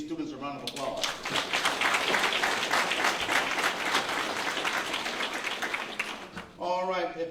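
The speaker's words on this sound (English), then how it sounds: "Let's give these students a round of applause." An audience at a scholastic achievement awards luncheon gives students a sustained round of applause: dense, steady clapping that fills the room, with a voice speaking just before and after.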